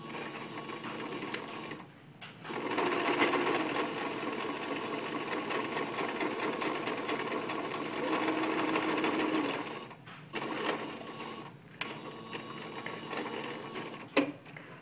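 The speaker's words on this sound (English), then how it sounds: "you're going to want to sew the raw edges at a 3/8 seam allowance." A sewing machine runs in steady bursts while stitching the raw edges of a small fabric tissue-package cover at a 3/8 inch seam allowance, with a long continuous run, brief pauses, then shorter stop-start stitching near the end.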